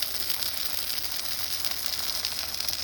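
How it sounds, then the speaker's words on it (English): Meat and cheese inside a rolled tortilla wrap sizzle on a hot pan, a steady, even hiss with faint crackle running throughout, close and moderately loud, with no talking. "It is all sizzling and delicious."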